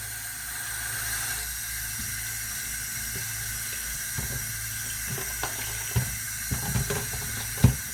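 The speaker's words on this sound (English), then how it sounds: "So I'm gonna add some hot water." Hot water runs from a tap with a steady hiss while it is used for cleaning an HP 920 printhead, with a few clinks and splashes as it fills toward the end.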